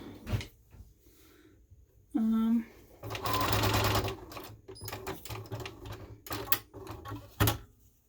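A home sewing machine stitching a fabric scrub hat at a 3/8 inch seam allowance, whirring in short close bursts between clicks and handling noises, with a person talking in between.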